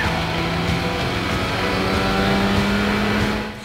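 A race car engine in the Gran Turismo 5 Prologue racing game, holding a loud sustained roar with shifting pitch throughout before dropping off at the end, with no voices.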